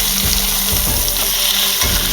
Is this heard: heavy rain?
no